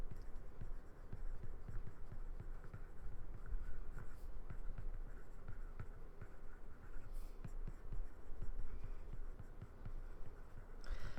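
Pen or pencil writing by hand on paper while working a geometry similarity problem, a steady close scratching with short strokes running throughout, no talking.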